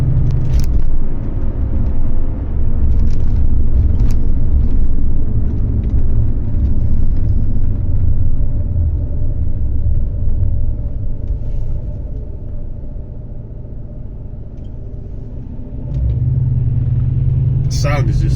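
Jaguar XJR X308 with a supercharged V8, a deep steady engine rumble that holds loud throughout, dips a little in the middle, then swells again near the end.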